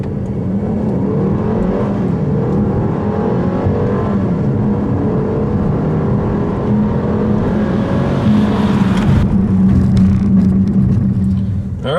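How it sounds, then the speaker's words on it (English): A 2015 Mercedes-Benz GLA250 4MATIC in sport mode at full throttle from a standstill to 60 mph, engine droning loud and steady as pitch climbs, dipping briefly at a gear change before rising again. "0 to 60, I'm just going to mash the accelerator."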